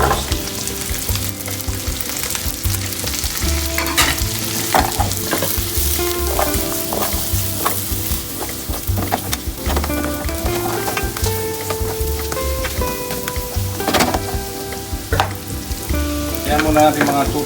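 Carrots stir-frying in oil in a pan, with a close, continuous sizzle broken by frequent scraping and clanking of a utensil stirring against the metal, alone without talk.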